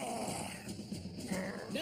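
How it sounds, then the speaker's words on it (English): Low growling from Nevitz, a creature in an animated series, rumbles steadily for a couple of seconds at close range, with a thin high tone running underneath. "I thought I heard Nevitz growling."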